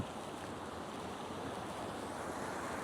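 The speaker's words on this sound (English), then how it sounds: "You can have a look at this, where all the water's torrenting over." Water torrenting over a canal spillway into another channel, a steady broadband roar of rushing flow that holds constant and fairly loud throughout, with no voices.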